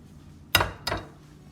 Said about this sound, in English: take your eggs, crack them, and you're gonna make your mixture with the milk